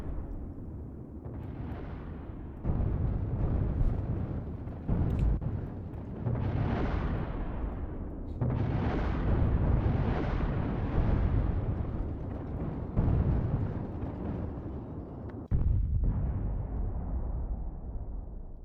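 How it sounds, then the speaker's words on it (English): A spacecraft in Kerbal Space Program tumbles and blows apart, a long chain of heavy, rumbling explosions, each blast booming loudly and fading before the next strikes, repeated many times in an uneven sequence. "And it looks like the whole thing just exploded."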